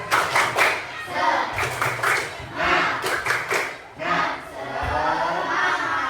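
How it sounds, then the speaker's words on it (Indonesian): A class of students does a rhythmic spirit clap, loud patterned group clapping mixed with shouted chanting voices, then the room settles into murmuring. "Oke, tepuk semangat."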